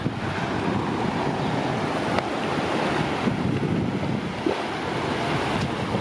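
Ocean surf breaks on a cold, rainy South Australian beach in a steady, dense roar, with wind buffeting the microphone throughout and no talking.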